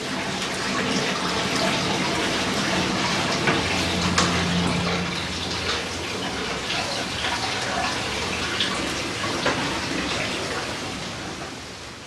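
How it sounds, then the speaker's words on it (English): Hot water poured into a tub during traditional beeswax pressing at an apiary, a steady rushing splash that continues evenly throughout. "Hot water is added to reheat and rinse the contents."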